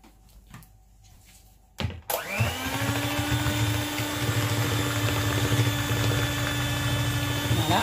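Cake batter of sifted flour being mixed for a two-flavour cake: after about two seconds of quiet kitchen clatter a motorised mixer whirs to life and holds a loud, steady humming drone to the end.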